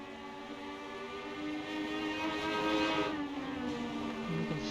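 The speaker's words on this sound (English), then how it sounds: "You heard those 2 lead cars go by." Race cars on the Oswego Speedway oval drone past at a distance, a sustained engine roar that swells and shifts pitch as the leading pair goes by.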